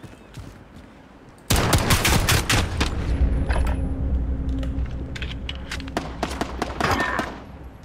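Gunfire in Call of Duty Modern Warfare multiplayer: after a quiet second, loud sustained bursts of automatic fire break out and rattle on with sharp individual shots and clicks through the rest of the stretch.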